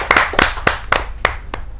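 An audience at a Hindi kavi sammelan poetry gathering claps to welcome a poet: six or so loud, distinct claps in a slow, uneven rhythm, close and clear with no voices.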